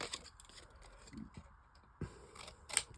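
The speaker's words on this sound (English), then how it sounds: "So we simply take our scissors" Quiet snips and scraping of scissors cutting card close by, a few soft cuts spaced out over a faint background hiss.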